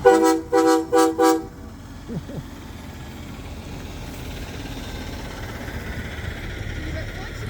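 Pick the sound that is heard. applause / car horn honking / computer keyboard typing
car horn honking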